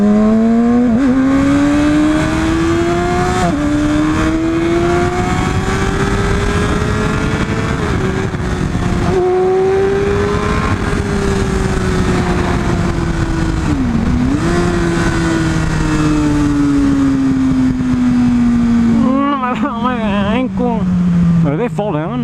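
A Yamaha R6 sport motorcycle ridden on the road, its engine droning and rising through the gears in long smooth revving sweeps, close and loud, with a short burst of sharper revs near the end.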